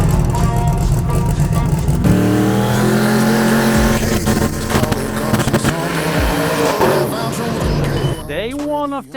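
A 1969 Yenko Pro Mod race car accelerating during track testing, a loud close engine roar with rising and shifting revs, a voice talking over it.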